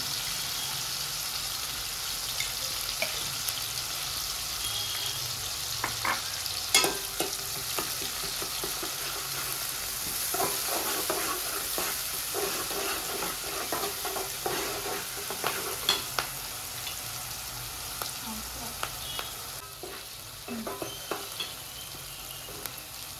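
Green chillies, ginger paste and spices frying in hot oil for a fish and bottle gourd curry: a steady, close sizzle runs throughout, broken by scattered stirring scrapes and light ladle taps against the pan.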